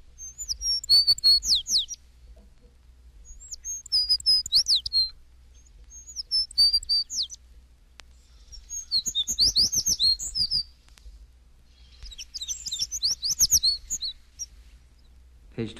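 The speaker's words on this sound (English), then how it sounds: "235, Tree Sparrow." Song of an American Tree Sparrow, an eastern North American bird: four separate phrases of high, sweet, slurred whistles and twitters, clear against a quiet background with low hum.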